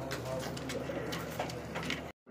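Racer pigeons at a breeding farm, a pair sitting on eggs, coo in soft, low, repeated throaty calls nearby before the sound cuts off abruptly.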